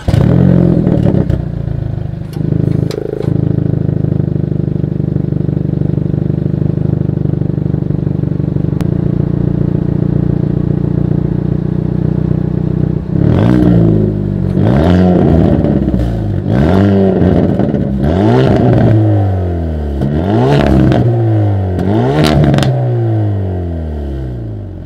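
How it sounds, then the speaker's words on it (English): A 2020 Hyundai Veloster N exhaust idles with a deep, steady burble, then revs sharply in a series of quick bursts, loud and close by. "here is that exhaust clip."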